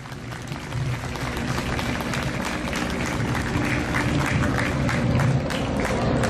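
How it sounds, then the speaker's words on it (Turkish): A crowd gathered for a children's celebration claps together in a strong burst of encouraging applause, dense and continuous, building slightly louder toward the end. "Onlara buradan kuvvetli bir moral alkışı gönderebilir miyiz?"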